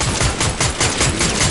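Loud, close bursts of rapid automatic gunfire from the Fortnite video game, with shots pulsing in quick succession across a short stretch.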